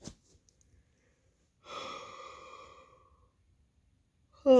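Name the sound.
woman yawning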